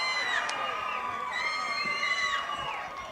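A wrestling arena crowd stands and cheers, a dense roar of shouts and whoops rising steadily throughout without letting up.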